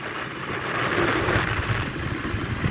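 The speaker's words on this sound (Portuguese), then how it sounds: "Andando sem a mão na moto, né?" A motorcycle being ridden through a neighborhood gives a steady, moderately loud engine drone with wind rush and slight rises and falls, no talking.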